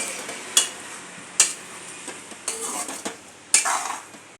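Chicken fry coated in a spice paste is stirred in a pan with a spoon, sharp metallic scrapes and clinks at irregular moments over a soft continuous sizzle, close and fairly loud with no voices.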